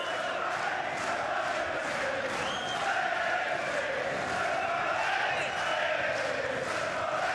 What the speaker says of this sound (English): The crowd sense that McGregor needs them. So here they are